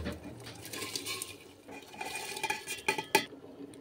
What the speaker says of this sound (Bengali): এরপর যে চালটা ভেজে রেখেছিলাম, ডাল আর চালটা ভাজা, দিয়ে দেব হাঁড়ির মধ্যে।